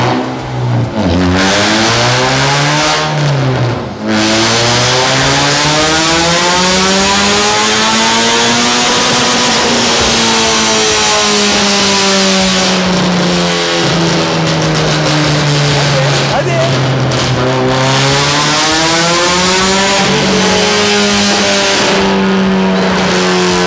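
A Peugeot 106 GTI revs hard on a dynamometer, its engine note sweeping up and down through repeated loud pulls and drops, with a brief voice talking over it.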